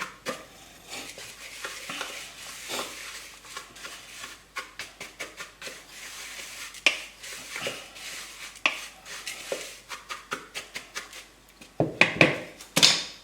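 A mixture is stirred evenly in a bowl for a long stretch of rapid, steady scraping and clinking strokes, up close, ending in a few sharper knocks against the bowl.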